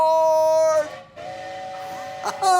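A Christmas story train sound effect plays in a children's Bible lesson: a loud, harmonic train whistle sounds in repeated blasts separated by short gaps, with a low rumble underneath.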